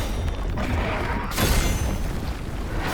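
A delayed explosion goes off in the action game The First Berserker: Khazan, a loud, deep boom that swells midway through a continuous rumbling roar with no voices over it.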